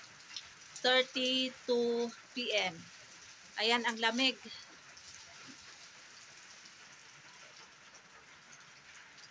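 Rain falls steadily in Pakistan as a faint, continuous hiss. A voice speaks briefly at the start, then the rain carries on alone.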